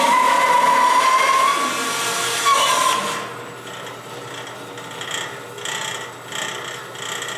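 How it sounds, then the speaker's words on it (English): Woodworking bandsaw cutting a carved-top Les Paul style guitar body, a steady whining blade drone with a high tonal ring for about three seconds, then dropping to a quieter rattling idle with intermittent bursts. "All right, let's go to the bandsaw."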